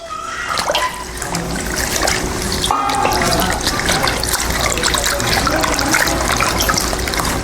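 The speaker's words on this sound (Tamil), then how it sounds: "அந்த வல்லாரை கீரையை பார்த்தீங்கன்னா நல்லா தண்ணியில் போட்டு கழுவி போட்டுக்கலாம்" Vallarai (Centella) greens being washed in a bowl of water, a steady close splashing and trickling that runs throughout with no talk.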